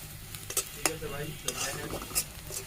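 Ground coriander frying in oil in a pan, giving a close, steady sizzle broken by repeated sharp clinks and scrapes of a spoon stirring, with no voices.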